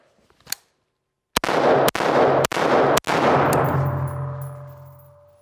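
Four rapid rifle shots from an AR-15 type rifle ring out loud and close in quick succession, each sharp crack running into the next, with a long ringing decay after the last.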